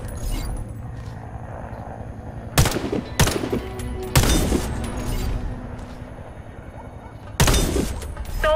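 Rifle gunfire in the Warface first-person shooter, fired at targets through a scope: four loud, sharp shots spaced a second or more apart over steady background game ambience.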